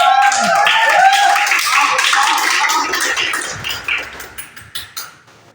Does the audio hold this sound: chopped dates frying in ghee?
no